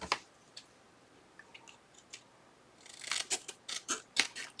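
Scissors snipping paper for a junk journal, a few faint, sparse cuts at first, then a quicker run of close, crisp snips near the end, with no talking.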